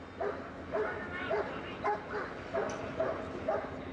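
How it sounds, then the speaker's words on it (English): Rhythmic barking from a German Shepherd police dog at a riot line, several sharp barks spaced roughly half a second apart, moderately close, with crowd noise and faint voices underneath. "That's a German Shepherd. That's a police dog."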